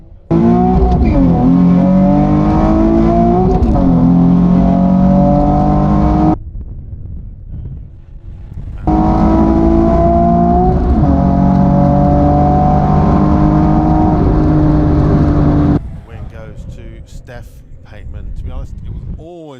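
Drag race cars at a festival launching down the strip, two loud high-revving engine runs with rising gear-change sweeps, separated by a quieter gap, ending in crowd and track noise.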